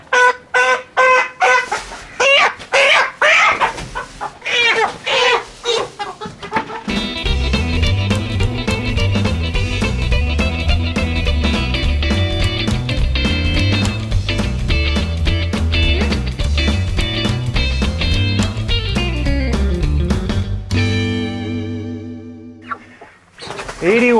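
Cornish Cross meat chickens cluck and squawk in short bursts while being loaded for the processor, then the birds continue under loud rhythmic music that plays steadily for most of the stretch.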